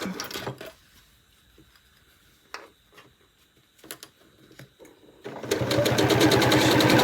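A sewing machine stitching a fabric hair scrunchie runs in a short rapid burst, then falls quiet with faint clicks and handling taps before whirring again loudly and continuously to the end.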